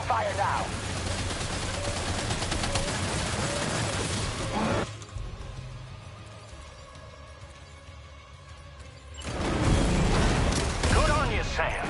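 Gunfire in the video game Death Stranding 2, dense bursts of shots and mechanical clatter at the start and end, separated by a quieter stretch with a low droning hum, with voices talking over it.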